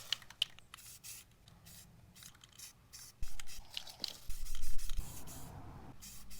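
Spray paint hisses onto a cracked dashboard pad from an AE86, in uneven bursts mixed with light scraping and handling noises, growing louder and more continuous toward the end.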